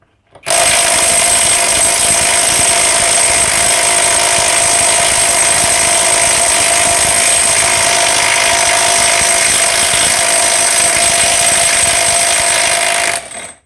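A Vrill VIW2350 impact wrench hammers steadily and loudly for about thirteen seconds, working a 500 Nm bolt loose with one continuous dense rattle and no pauses or voices.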